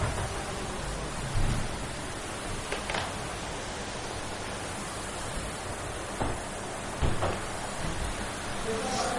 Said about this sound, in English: very strong wind and rain with thunders